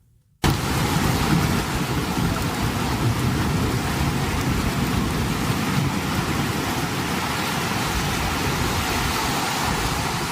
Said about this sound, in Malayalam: തലസ്ഥാനമായ റിയാദിൽ ഇന്നും കനത്ത മഴ തുടരുകയാണ്.